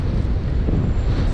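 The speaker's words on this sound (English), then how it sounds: "It's windy" Steady wind rushes past the microphone while riding a SUPER73 S2 eBike along the Amsterdam Oosterdock waterfront, a constant low rumbling buffet at moderate level.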